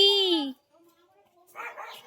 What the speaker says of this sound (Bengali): কে যেন মেরেছে কুকুরটাকে